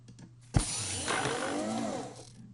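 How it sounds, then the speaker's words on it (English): A space station door sound effect opens with a sharp mechanical clunk, then a sustained whooshing, grinding hiss with ratcheting mechanism noise that fades out after about two seconds. "we can play some of the space station doors"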